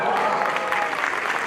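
Audience applause at an Amway Diamond celebration event in a hall, a short burst of dense, loud clapping from a large crowd.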